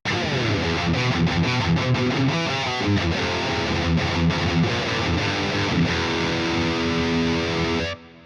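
Distorted electric guitar playing strummed chords and riffs through an amp simulator, loud and continuous, cutting off abruptly near the end.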